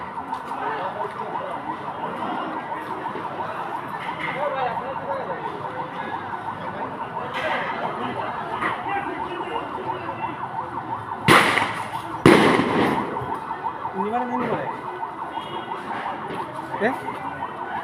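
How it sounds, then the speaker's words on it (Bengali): Repeated grenade explosions go off during a joint police, RAB and border guard operation in Habiganj, two sharp loud blasts standing out over a steady background of distant crowd noise and sirens. "আপনারা শুনতেই পাচ্ছেন যে মুহুর্মুহ গ্রেনেড সাউন্ডের শব্দ শোনা যাচ্ছে"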